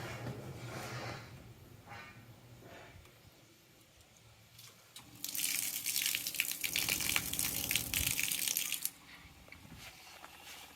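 Water gushing from a van tap with its pump running: quiet knocking and hum at first, then a loud, steady hissing gush with a pump drone under it for about four seconds before it cuts off abruptly.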